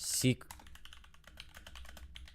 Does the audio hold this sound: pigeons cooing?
no